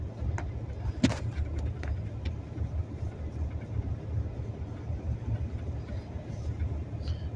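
A car driving along a slushy, snowy road, its low engine rumble and tire wash steady and continuous, with a brief thump near the start and no clear talking.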